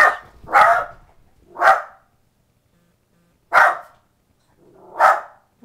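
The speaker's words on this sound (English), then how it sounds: "What's that dog barking" A dog barks loudly close by, five sharp barks, the first two in quick succession and the rest spaced out by pauses, with no voices.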